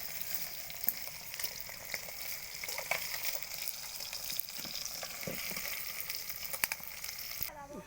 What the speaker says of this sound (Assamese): মাছখিনি ফ্ৰাই কৰা হ'লে উঠাই দিলোঁ।